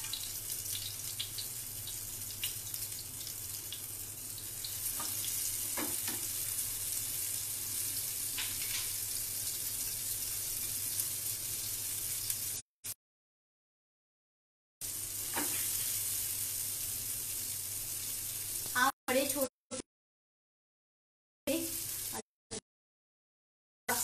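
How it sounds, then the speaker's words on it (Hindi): Kebabs fry in Amul ghee on a tawa griddle, a steady close sizzle and hiss with faint scraping, interrupted by several stretches of complete silence. "मैं इसमें तवे पे अमूल घी अप्लाई कर रही हूँ। और मैं कबाब डालूंगी इसमें।"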